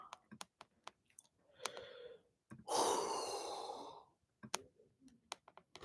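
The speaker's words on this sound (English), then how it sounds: "I'm sorry for yawning, guys." A man gives one long, breathy yawn lasting over a second, close and quiet, surrounded by scattered soft clicks and small mouth noises.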